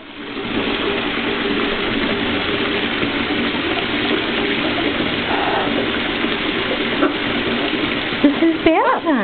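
Water poured over scarlet macaws at bath time, a continuous rushing splash throughout, with brief chirpy bird calls near the end.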